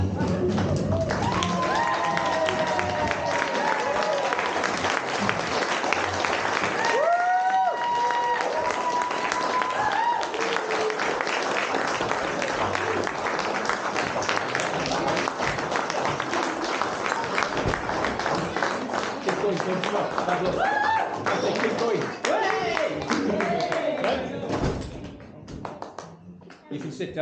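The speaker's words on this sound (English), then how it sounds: "give a huge round of applause for the new bride and groom" Wedding guests applaud the bride and groom at a reception at Orchard Leigh Estate, a sustained, dense wash of clapping and crowd noise with cheering and chatter mixed in, tapering off near the end.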